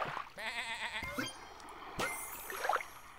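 A cartoonish sheep bleat from the video game Super Auto Pets sounds clearly, a wavering bleat followed by short game effect clicks and a brief splashy chime.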